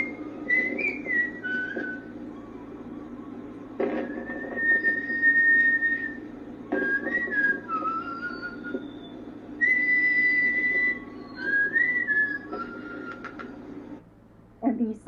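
Whistling tones from an outdoor art installation on a museum lawn rise in short, repeated bursts over a steady low hum, with brief gaps between phrases.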